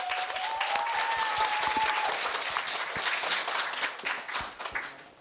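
Loud, sustained applause from an audience at a middle school students' speech festival, steady clapping throughout that tapers off slightly near the end, with a faint whistle early on.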